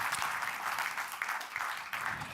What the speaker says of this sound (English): Make a round of applause for Siraba Dembele Pavlovic.